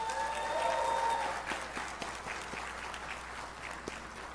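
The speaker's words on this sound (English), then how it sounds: "But they too, I think, deserve a little bit of applause" Audience applause for lecturers and tutors at a graduation ceremony rises into a burst of many hands clapping, then thins to scattered claps as it fades over a few seconds in a large hall.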